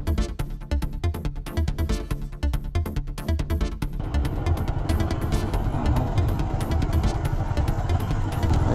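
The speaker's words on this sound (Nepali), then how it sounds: "ल उकालोमा हिँडिरहेका छौँ मोटरसाइकलमा गुडिरहेका छौँ" A motorcycle climbing a hill on a winding road near Chaubiskedanda, Chitwan, its engine throbbing close and loud, starting with choppy pulses and then settling into a steady, continuous drone.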